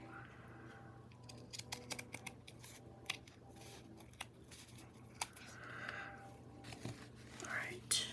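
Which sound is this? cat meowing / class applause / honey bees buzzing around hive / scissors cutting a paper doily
scissors cutting a paper doily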